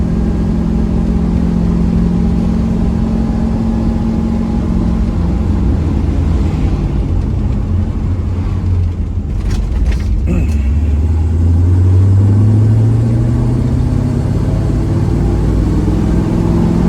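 Rust-free 1968 Chevrolet Camaro SS engine running outdoors on a hot day, a loud steady rumbling idle with a rising rev swell near the end.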